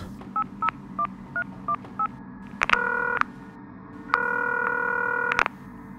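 Touch-tone keypad beeps as a phone number is dialed, a quick run of short tones followed by longer steady tones, clear over a low background hum.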